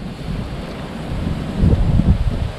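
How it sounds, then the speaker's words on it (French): Strong wind blows outdoors by the sea, buffeting the microphone with a low, steady roar that gusts louder in the second half, with no one speaking. "comme il y a du vent, vous n'allez pas m'entendre sinon"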